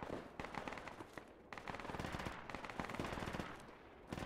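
Gunfire in the Project Reality video game: rapid automatic fire and scattered shots throughout, fairly faint and distant-sounding, in irregular bursts.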